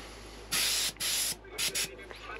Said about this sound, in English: We'll spray over the back here.